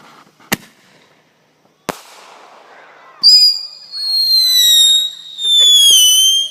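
Two sharp firework bangs, then a loud shrill whistling shriek that warbles and repeats, close by and piercing.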